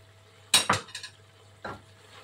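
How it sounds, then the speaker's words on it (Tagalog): Leftover onions being stirred into a home-cooked Filipino lunch dish with quail eggs: a few quick scraping, clinking strokes of a utensil against the pan, then a pause and one more stir, with no talking. "Tapos, halo natin yung tinira ko na onions."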